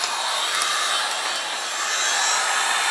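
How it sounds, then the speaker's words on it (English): A heat gun blows a continuous, steady hiss and roar while shrinking heat-shrink tubing over soldered wires for a kitchen pendant light with ceiling fan, close and unbroken throughout. "You get your heat gun"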